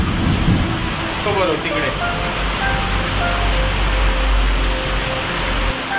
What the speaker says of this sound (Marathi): पाऊस पडलो, पाऊस पहिलोच पाऊस.